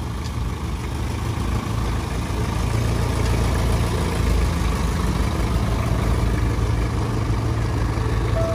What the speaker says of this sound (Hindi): अब हम गाड़ी पीछे करवा रहे हैं